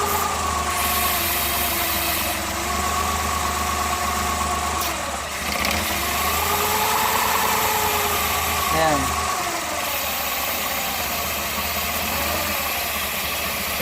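Idling car engine with a vacuum leak, a steady mid-low hum whose pitch shifts as the RPM drops and then rises, close and loud, with someone talking over it.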